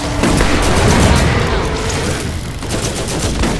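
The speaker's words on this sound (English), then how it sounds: "Things are exploding and catching fire and electrifying everywhere." Video game explosions with things catching fire and crackling with electricity, a loud dense barrage of booms and gunfire-like bursts filling the whole short stretch.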